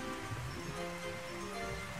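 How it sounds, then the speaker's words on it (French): Rain pours steadily in the Zelda game Ocarina of Time, a continuous broadband hiss with soft watery texture, moderately loud and even throughout, with no voices over it. "Alors il se met à pleuvoir et du coup ça vide le puits."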